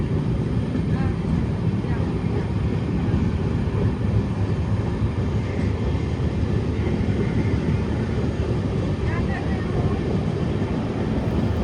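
LTT-Bhubaneshwar summer special passenger train running at speed between Solapur and Lingampalli, a continuous loud rumble and rattle from inside the coach, with faint voices in the carriage.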